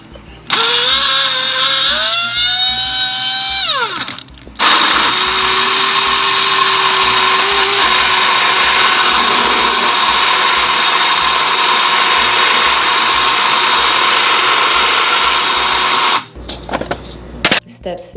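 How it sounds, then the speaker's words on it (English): Blender whirring through green smoothie ingredients without ice, loud and close: a short rising spin-up, a brief stop, then a long steady roar before cutting off near the end. "Step 5, you're going to blend with no ice, and I normally blend with no ice"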